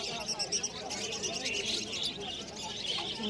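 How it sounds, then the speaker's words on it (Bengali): Pigeons coo and chirp among a crowded pigeon market in Howrah district, a steady bustle of birdcalls with murmuring voices underneath throughout. "বাহ, খুবই সুন্দর পায়রাগুলো।"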